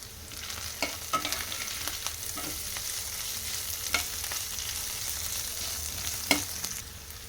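Crushed garlic and curry leaves sizzle in hot oil as a tempering for a green gram snack: steady close frying hiss with occasional scraping stirs and small pops, no voices.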